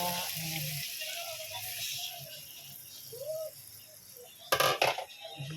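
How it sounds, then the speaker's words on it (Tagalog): Chicken broth poured into a covered pot of simmering chicken, a steady hiss and sizzle with faint rattling, then a louder clattering burst near the end. "Ayan, lagyan na natin ng sabaw."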